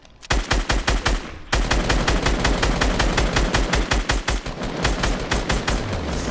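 Sustained automatic gunfire aimed at an enemy in a video game squad match, long rapid bursts of loud, close shots with a brief pause early on before the firing resumes nonstop.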